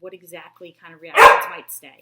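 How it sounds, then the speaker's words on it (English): A dog gives a single loud, close bark in the middle, cutting across a man's ongoing speech, which continues around it. "That's my dog."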